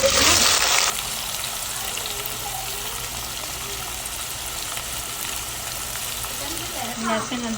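Mustard seeds, nigella, cumin and potatoes hit hot oil with a loud burst of sizzle, which settles into a steady, softer frying hiss that continues throughout.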